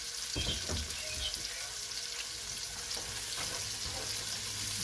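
Onion, garlic and ginger fry in a pan with a steady, dense sizzle, joined by a few light knocks and scrapes as they are stirred.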